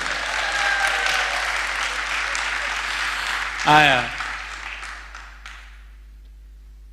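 An audience bursts into clapping on cue, a brief mass of applause under and after a speaker's voice, swelling for a moment around the middle before fading into quiet.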